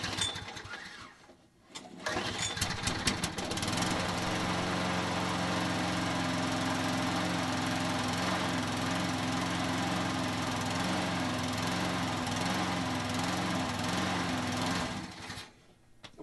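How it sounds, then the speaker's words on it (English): A push lawn mower engine starts after priming and then runs steadily at a loud, close, droning pitch with a slight surge, before cutting off near the end. "we'll want to start it up, let it run a little bit, and make sure that everything's okay with it."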